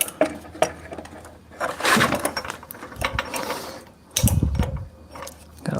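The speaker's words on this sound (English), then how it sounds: "All right, so there's my winch." Ratchet winch on a cheiroballistra, a Roman torsion bolt-thrower, wound in several bursts of close mechanical clicking and grinding with short pauses between.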